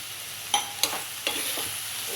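Vegetable curry with crushed peanuts is stirred in a hot pan under a soft, continuous sizzle, with three sharp scrapes of the spoon against the pan.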